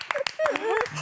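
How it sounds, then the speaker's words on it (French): A few sharp hand claps from a small group of people applauding themselves in a studio, quickly giving way to close talking voices. "On s'applaudit comme à la télé."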